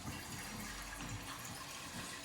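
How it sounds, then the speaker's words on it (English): Water runs steadily into a cooking pan for steaming cauliflower, a continuous hissing splash with even loudness throughout and no voices. "So first thing we do is put a little bit of water in a pan"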